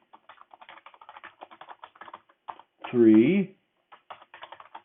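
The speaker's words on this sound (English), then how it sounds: "I'm going to type in 2," Someone types on a computer keyboard in quick, light, close clicks, broken by a short spoken number partway through before the tapping resumes.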